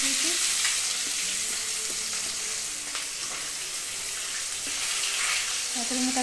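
Onion frying in a pan with a steady, loud broadband sizzle and occasional stirring scrapes throughout, for a Puri-style fish and prawn vegetable mahura.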